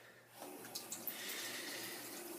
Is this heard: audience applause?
no